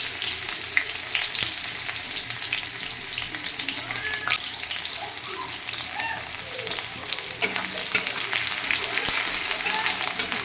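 Chopped onion hits hot oil left from frying a fish head and sizzles steadily throughout, a dense close crackle with a few stirring scrapes, while a voice talks over it now and then.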